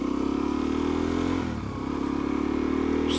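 A Suzuki DRZ motorcycle engine runs steadily at a loud, close idle, with a brief dip in the middle before it settles back to an even thrum.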